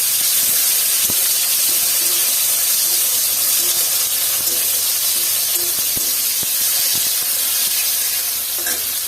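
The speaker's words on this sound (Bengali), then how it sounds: "এখন আমি এখানে টমেটো দিয়ে দিচ্ছি।" Tomatoes going into hot oil with red chillies and whole cumin for a pointed gourd curry, sizzling loudly and steadily with stirring clicks and scrapes throughout.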